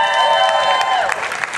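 Crowd claps and cheers at a Walk to End Alzheimer's event in Muskegon, steady applause filling the moment with a few sharp claps standing out, and a voice over the top.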